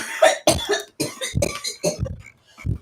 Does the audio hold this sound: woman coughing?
yes